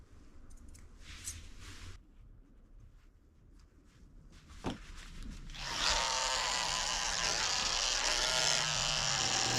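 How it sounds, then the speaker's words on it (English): Electric clippers fitted with a 30 blade switch on and buzz steadily while shaving hair near a Shih Tzu's eyes during grooming, following a few faint earlier clicks and taps. "I'm using a 30 blade very carefully in the corners of his eyes to shave out all this hair."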